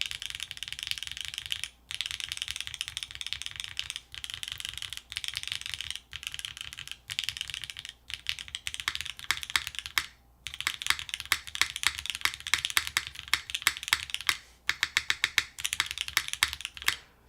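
Typing on a mechanical keyboard with a PEI plate, Gateron Milky Yellow switches and GMK keycaps: dense, steady clacking bursts with brief pauses, close and clear, no talking.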